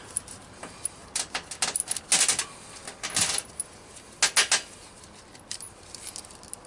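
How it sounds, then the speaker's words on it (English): Metal chains jangle and clink in irregular bursts while being handled and put on during raccoon skinning, the rattles close and crisp against a quiet background. "Now at this point, I'll put on my chains."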